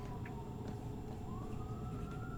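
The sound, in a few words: siren passing outside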